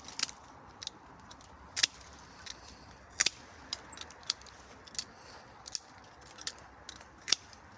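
Scissors snip something into small pieces in a quick series of sharp, close cuts with short pauses between them against a quiet background.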